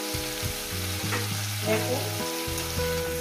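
Cauliflower frying in a pan after being covered to soften, a steady crackling sizzle with scraping stirs throughout, while a voice speaks briefly over it.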